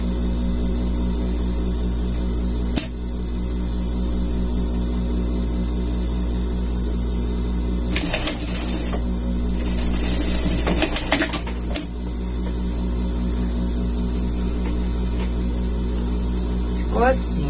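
A sewing machine stitches seams on a scout costume, running in a steady mechanical whir with a louder burst of fast stitching midway, close by.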